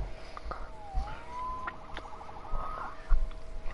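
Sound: police siren in a video game

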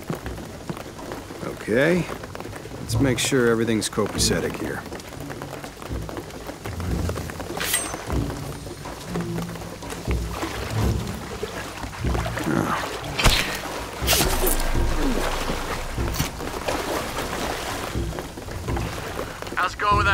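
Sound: rain in the video game Shadow of the Tomb Raider

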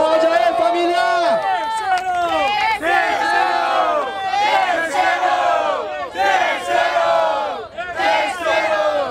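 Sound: crowd cheering at a rap battle

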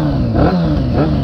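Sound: motorcycle engine revving

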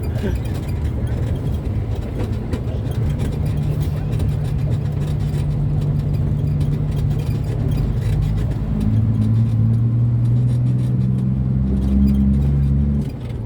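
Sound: Isuzu truck engine shifting through gears

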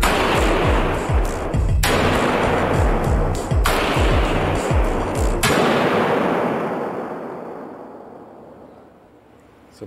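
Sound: gunshots fired at an armored vehicle

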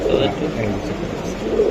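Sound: racing pigeon cooing

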